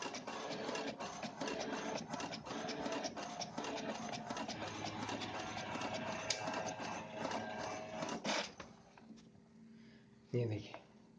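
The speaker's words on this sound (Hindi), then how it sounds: "देखिए प्रिंट आउट कर रहा है।" An HP 1050 inkjet printer prints a page, its carriage and feed mechanism whirring and chattering steadily for about eight seconds before stopping, followed by a brief mechanical clunk; nearby and moderately loud.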